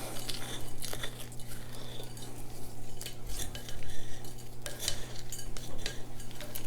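A mixing stick stirs pumice into houseplant soil, giving a gritty scraping and rustling that keeps going close by, with a low steady hum underneath.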